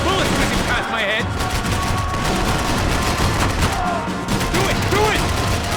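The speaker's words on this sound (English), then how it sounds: "I can't concentrate with bullets whizzing past my head!" Rapid gunfire and bursts from Max Payne 3 rattle loud and close, dense shots overlapping throughout, with voices calling out amid the firefight.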